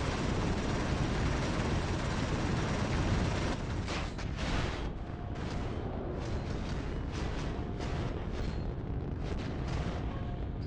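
Incoming torpedoes exploding during a Nebulous Fleet Command space battle, heard as a dense, sustained rumbling roar with a cluster of sharper blasts and bursts in the latter half, loud and continuous without speech.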